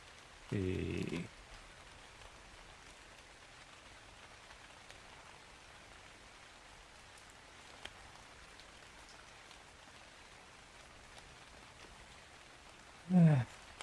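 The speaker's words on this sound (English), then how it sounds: "Bit dark in here at the moment with all this rain." Steady rain falls outside, a soft even hiss throughout, broken by two brief louder bumps near the start and end.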